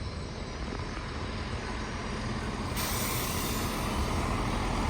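Train 17117 departs Peterborough for Birmingham New Street with a steady, loud rumble of rolling wagons, the noise holding constant and brightening slightly partway through.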